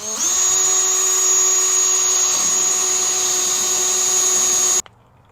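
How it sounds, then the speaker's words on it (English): A cordless drill whines steadily at high speed, driving self-tapping screws into a rusty car fender outdoors at dusk, running loud and continuous for nearly five seconds before cutting off abruptly. "Self-tapping screws."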